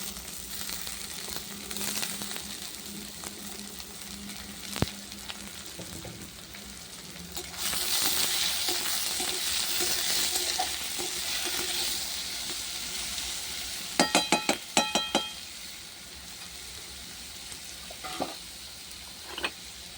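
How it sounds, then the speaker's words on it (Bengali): Onions and potatoes sizzle and fry in a pan as they cook together, with a steady hiss broken by a few sharp clinks and stirring scrapes of a utensil, close and fairly loud, no talking. "তো পেঁয়াজগুলো ভাজা হবে, আলুটাও ভাজা হয়ে যাবে।"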